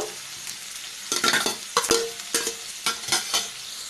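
Pieces of bitter gourd, already about seventy percent cooked, get stir-fried in a hot pan: bursts of sizzling with scraping stirs come in uneven clusters over a low background hiss, loud and close, with no voices.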